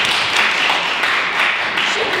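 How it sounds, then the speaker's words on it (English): Conference audience applauding at an international conference as a singer is welcomed, a dense, even wash of many hands clapping close by, steady for the whole stretch. "Please welcome with the warm applause"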